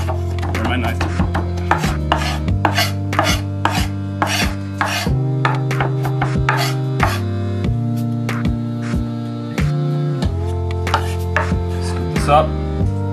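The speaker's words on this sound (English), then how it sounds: "my thyme here, run my knife through that as well" A knife chops fresh thyme on a cutting board in steady, rapid close strokes over a continuous background music bed, with no talking.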